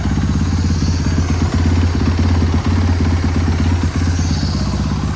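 A 2017 Yamaha YZ450F dirt bike bored out to 500cc idles steadily up close, a loud, even engine thrum with a rapid rhythmic clatter that holds throughout, with only slight dips in between.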